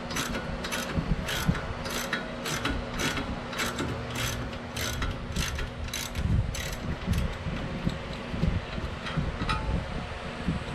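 A ratchet clicks in quick repeated bursts while loosening 15mm brake carrier nuts on a 2005 Volvo S80, close and steady with faint background rustle.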